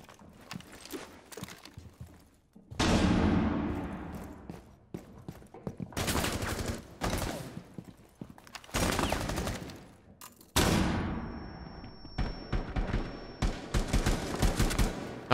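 Flashbang grenades in Rainbow Six: Siege go off in loud sharp bursts, two big blasts with ringing decay, amid scattered gunfire and clattering movement across the match.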